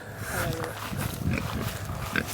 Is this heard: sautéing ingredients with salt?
no